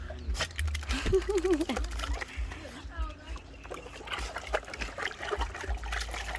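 Water trickles and patters into a tray as a dog splashes and plays in it nearby, with someone talking over the wet dribbling sounds.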